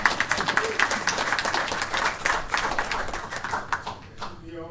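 A city council meeting audience bursts into lively, sustained hand clapping for the audit staff, close and crisp, tapering off at the end.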